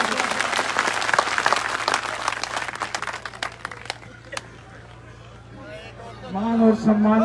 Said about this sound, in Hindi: तालियों से अभिनंदन और स्वागत।